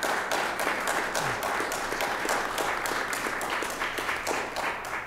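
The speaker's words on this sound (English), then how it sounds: "if the full house would like to give a round of applause for the candidates" An audience claps for the candidates at a 2012 Old Orchard Beach House candidates forum. The applause is steady and dense for the full five seconds, with many hands fairly close and no one talking.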